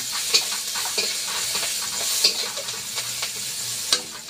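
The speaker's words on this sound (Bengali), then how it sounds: "দানাগুলো ফোটে খুব তেলে দিলে" Spice seeds crackle and sizzle in hot oil in a village kitchen after fish frying, with a steady frying hiss broken by sharp pops and stirring scrapes close by.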